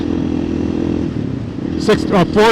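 A 2024 KTM EXC-F 500 TPI dirt bike with an FMF muffler and tuned stock ECU revs hard through the gears, a loud close engine roar that drops at a shift and then climbs again, with a rider shouting over it.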